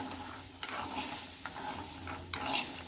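Chickpeas dry-roast in a pan while being stirred, giving a soft continuous sizzle broken by a few sharp scraping strokes of the spoon against the pan.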